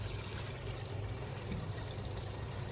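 Water from a running backyard pond pump trickles and splashes in a steady, faint wash with no break and no voices.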